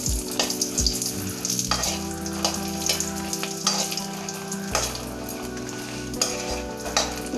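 Dry red chillies, a large handful of about 25–30, roasting on low heat in a pan for idli podi, with a steady sizzle and frying crackle and intermittent scraping stirs, close and continuous, no talk.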